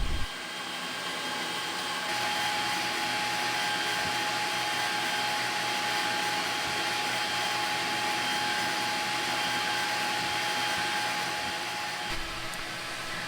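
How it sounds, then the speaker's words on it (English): The extraction hood on a Creality Falcon2 Pro laser cutter pulls smoke while cutting a thick maple plank, producing a loud, steady fan whoosh that runs unbroken for the whole stretch without talk. "the Falcon2 Pro's hood is working exactly as it should and pulling all the smoke out of my work area"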